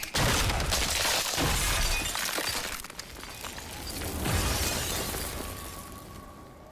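Continuous crackling, shattering noise like breaking ice or glass as an ice creature shatters, dense and loud throughout, swelling again midway before easing off.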